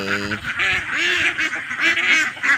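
Ducks on a duck farm quack loudly and close by in a dense, overlapping chorus of nasal calls, following a brief voice at the start.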